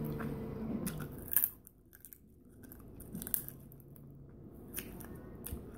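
A person chews and crunches through soft cooked chicken bone, with wet, close-up crunching bites and squishy mastication in uneven bursts over a few seconds, with no talking.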